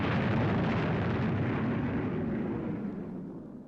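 Spaceship retro rockets firing, a loud sustained roaring rumble that holds steady and then slowly fades, heard alone.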